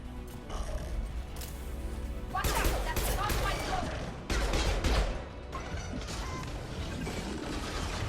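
Gunfire in the video game Mass Effect, bursts of rapid shots and metallic impacts in two louder clusters over game ambience, with faint talk at times.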